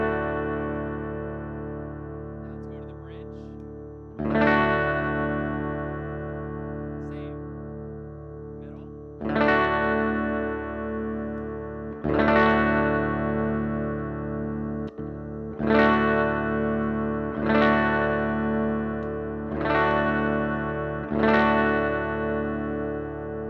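A Squier Paranormal Super Sonic electric guitar on the bridge pickup, played through chorus and distortion effects: strummed chords ring out one after another at a steady pace, each sustaining and fading, loud and alone.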